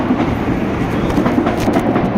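Steady rumble and rattle of a train at a station, a dense continuous low roar with faint clatter throughout, fairly loud and close, with no voices.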